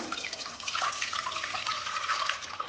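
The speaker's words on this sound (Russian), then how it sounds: "И я теперь солью вот эту горячую воду." Hot water pours and splashes steadily as it is drained off pickling vegetables, a close, continuous hiss of liquid running out for a few seconds with no voices.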